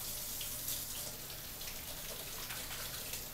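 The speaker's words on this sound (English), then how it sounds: "we're going to wash our hands again because our hands are all" Hands sticky with peach juice washed under a running kitchen tap, a steady close hiss of flowing water with soft splashes throughout, no voices.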